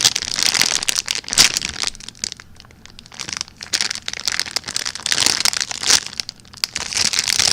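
A squishy toy pulled from its plastic packaging, close and loud crinkling and rustling of plastic in irregular bursts with brief quieter pauses.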